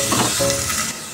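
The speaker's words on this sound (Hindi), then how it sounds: "थोड़ा सा दाल को हम फ्राई करेंगे।" Washed masoor dal fries in a pan with onion and chilli, a short loud burst of sizzling and stirring with no voices.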